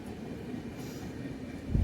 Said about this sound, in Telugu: మన ట్రైన్ అయితే బయలుదేరిపోతుంది ఇప్పుడు.